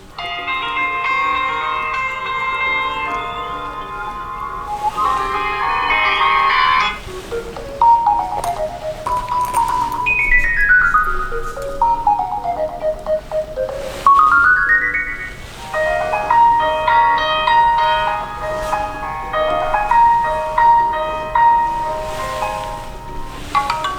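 A Doogee MIX 2 phone plays its Confession ringtone, a bright melodic chime tune with bell-like notes that rise and fall in repeated phrases, loud and steady without any talking.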